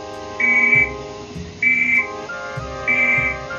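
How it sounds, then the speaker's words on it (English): Three separate high-pitched whistle blasts sounding a fallout warning, each steady and lasting about half a second, evenly spaced with short pauses between them. "Or 3 whistles like this."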